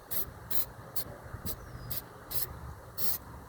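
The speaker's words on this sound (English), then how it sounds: "as we spray, cover that rust up right here" High heat spray paint hisses out in short repeated bursts, about seven in a row, as it is sprayed onto a rusted BBQ grill close to the microphone.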